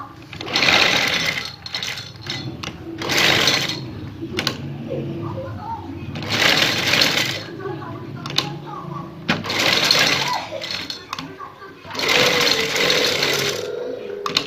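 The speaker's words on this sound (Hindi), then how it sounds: "इस तरीके से इसको सिलाई लगाएंगे।" A sewing machine stitches fabric along a cutwork neck design, running in several loud bursts of a few seconds each, separated by pauses where someone speaks.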